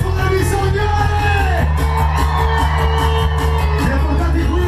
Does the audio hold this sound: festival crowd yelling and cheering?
yes